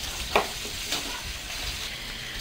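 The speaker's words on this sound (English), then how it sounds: "Looks like it's deep frying to me." Food deep frying in a pan gives a steady, fairly quiet hiss of sizzling with a couple of brief sharper crackles near the start. No one speaks.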